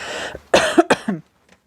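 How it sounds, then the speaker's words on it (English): A few rough coughs in quick succession, close and fairly loud, followed by silence. "I'm going to cough, I'm really sorry."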